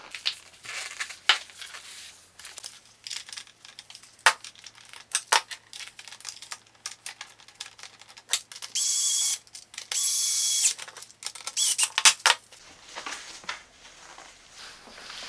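Gaming chair assembly with screws being driven into the lumbar support, heard as irregular close clicks, ratcheting turns and rustling, with a couple of brief loud bursts near the middle.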